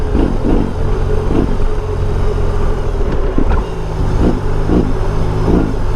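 2022 BMW R 18 Transcontinental motorcycle with stock exhaust, a deep, loud, continuous engine rumble while riding, with thumping low pulses and heavy wind buffeting on the microphone.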